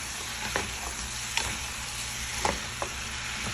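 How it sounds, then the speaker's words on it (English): Steak and potatoes frying together in a pan, a steady close sizzle with a few sharp spatula clacks and scrapes as everything gets stirred, no voices. "And then I'm just going to stir it all together."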